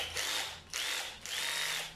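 A 12-volt cordless drill drives 32mm black screws into scrap plywood in three close, loud bursts of whirring, each ending with a short pause, with no voices.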